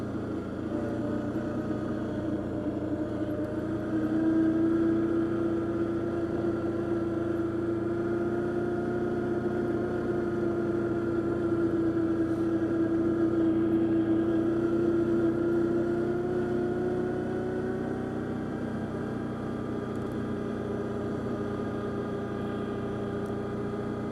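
Arctic Cat Diesel 700 side-by-side engine droning steadily at moderate volume as it revs through a trail tunnel, a sustained rising and falling tone with no talking.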